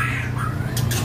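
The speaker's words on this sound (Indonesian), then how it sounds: "murai balak gacoran" A caged male oriental magpie-robin sings in bright, warbling phrases over a steady low hum, with a couple of short, harsh bursts near the end; the song is clear and close.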